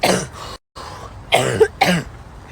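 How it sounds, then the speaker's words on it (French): A woman coughs several times in quick, harsh bursts, close and loud, with a brief silence between the first coughs and the later ones. "Punaise, je fais que tousser."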